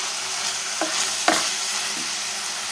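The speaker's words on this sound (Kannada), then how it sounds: "ಚೆನ್ನಾಗಿ ಫ್ರೈ ಆಗ್ತಾ ಇದೆ. ಫ್ರೈ ಆಡಿಸ್ತಾನೆ ಇರಬೇಕು" Broccoli, capsicum and egg stir-fry in a pan with a steady, fairly loud sizzle, broken by a few soft spatula scrapes and pushes close by.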